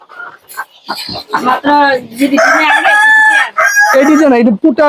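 Farm chickens cluck and a rooster crows loudly close by, its drawn-out call rising and falling several times.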